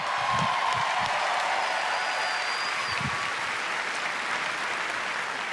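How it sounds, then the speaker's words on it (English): Sustained audience applause fills the hall at the Bethesda E3 2019 press conference, a dense, steady wash of clapping from a large crowd with no talk over it. "Another round of applause, please, for Marty Hugo and all of our presenters"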